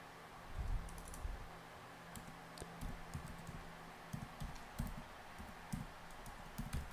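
Text being typed on a computer keyboard, a sparse run of soft key taps spread across several seconds, faint and close against a low background hiss.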